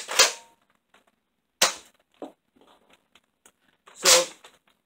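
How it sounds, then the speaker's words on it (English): BOOMco Halo Needler toy blaster firing, three loud, sharp cracks spaced a second or two apart, each followed by fainter mechanical clicks of the priming action, close up with no talking. "making this a very loud blaster."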